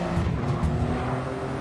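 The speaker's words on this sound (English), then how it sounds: "As both of them get past briefly" Race cars in Gran Turismo 7 roar past close by, a continuous loud engine drone with slight pitch shifts as two cars draw alongside and overtake during a contested race.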